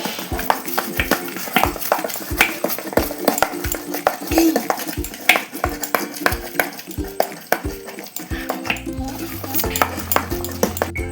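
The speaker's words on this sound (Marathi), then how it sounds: "तर चांगलं एका साईडनी फेटायचं आहे।" Dal batter for dahi vada being whisked by hand in a bowl, a steady rapid train of close, sharp clinking and slapping strokes that runs on without pause.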